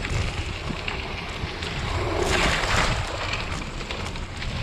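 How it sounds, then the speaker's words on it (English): Mountain bike on a gravel and trail ride splashing through a creek crossing, a steady broadband rush of water and wheel spray building toward the middle, mixed with wind noise on the microphone. "Got the creek crossing."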